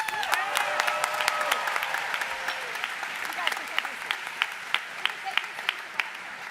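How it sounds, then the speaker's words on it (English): An audience at the West Ottawa High School Class of 2022 convocation ceremony gives a round of applause: a dense wash of clapping from many hands, with sharper individual claps standing out more clearly toward the end. "So we're gonna give you guys all a round of applause."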